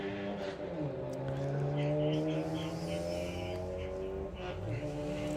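A drag racing car launches off the line on a quarter-mile strip at a Bug Jam event, its engine droning loud and close with layered tones that bog slightly, then climb steadily as it pulls away.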